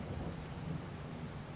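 Rain with rumbling thunder in a farming video game set in Stone Valley, a steady broadband wash with low rolling rumble throughout, moderately loud and continuous with no talk.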